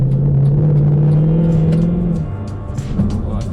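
A Mercedes-Benz C63 AMG Black Series engine revs with a deep, droning roar that holds, then drops away into lower rumbling as the revs fall; loud and close.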